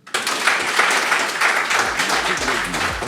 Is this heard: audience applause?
yes